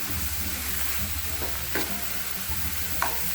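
Potatoes and mixed vegetables for a Spanish omelette cook in a pan over a medium flame, giving a steady, even sizzle with a few soft utensil scrapes and taps close by.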